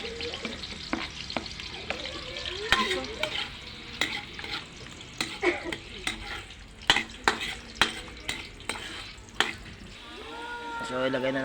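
Onion, garlic and ginger sizzle as they are sautéed in a pan, with a steady frying hiss broken by repeated sharp spatula scrapes and clacks, close and moderately loud, with a voice speaking in the background.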